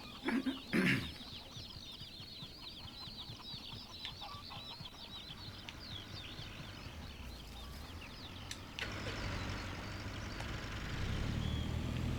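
Chickens in the Saturday Simulator video game cluck and squawk in a steady run of short calls, with a louder burst near the start and a rising low rumble of background noise toward the end.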